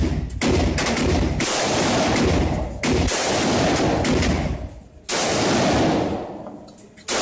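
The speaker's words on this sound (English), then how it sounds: "that little, not NFA short barrel, but short barrel shotgun" Short-barrel shotgun firing outdoors, a few heavy blasts whose roaring, distorted reports fill most of the span, each cut off abruptly before the next.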